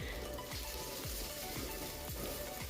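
Onions sizzle in a pan for egg curry with coconut milk while being stirred, a faint, steady crackle with regular scraping strokes of the spoon, no voices.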